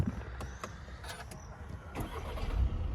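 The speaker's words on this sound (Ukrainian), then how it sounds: "Так, автомобіль запускається." A 2018 VW Passat Alltrack engine cranks with a few clicks and whirs, then catches and rises into a low running rumble close by; no one speaks.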